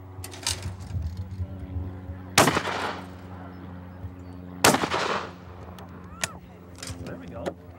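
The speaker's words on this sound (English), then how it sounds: "I'm gonna take two shots, and then Rob is gonna shoot till he misses," Shotgun blasts at clay targets on a teal-style shooting course, two sharp, loud reports a couple of seconds apart, with some faint bird-like calls and voices in between.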